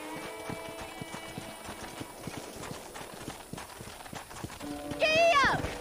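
Rhythmic clip-clop of a horse's hooves at a steady pace in the video game Red Dead Redemption, continuous throughout, with someone speaking over it and a louder burst of voice near the end.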